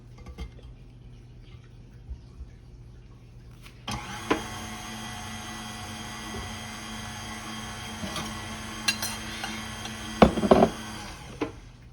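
A spatula scrapes down chocolate buttermilk cake batter in a mixing bowl, first faintly, then as a louder steady rasp with a few sharp clatters against the bowl near the end.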